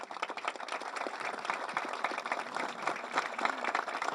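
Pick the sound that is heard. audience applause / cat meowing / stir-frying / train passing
audience applause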